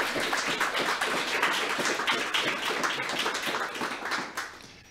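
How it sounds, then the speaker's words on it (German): Audience clapping at a German anime convention stage talk, steady dense applause from a crowd filling the whole stretch, tapering off slightly at the end. "Da dürft ihr klatschen."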